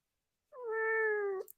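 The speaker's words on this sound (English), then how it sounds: "It's a very sad meow, that is. She does very good sad meows." A hungry cat gives a single drawn-out, plaintive meow lasting about a second, close and clear against a silent room.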